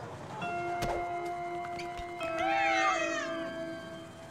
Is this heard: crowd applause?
no